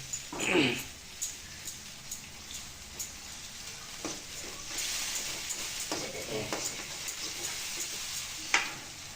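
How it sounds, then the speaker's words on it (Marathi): Chutney frying in an iron kadhai, a soft crackling sizzle with occasional stirring scrapes, fairly quiet and steady in a home kitchen with no talk over it. "चटणी तळायला लागते"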